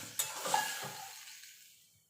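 Water poured into a hot pan of paneer butter masala, a sudden burst of hissing sizzle with a light clink that quickly fades away to near silence.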